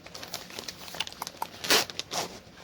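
A thick, durable plastic bag holding a pre-stamped cross stitch kit crinkles softly as it is handled, with faint scattered rustles and a couple of louder crumples near the end.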